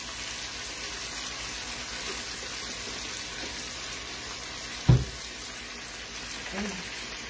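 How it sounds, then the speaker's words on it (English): Pork seasoned with oil frying in a pan, a steady even sizzle throughout, with a sharp clank partway through and a softer knock near the end. "So we'll let that fry."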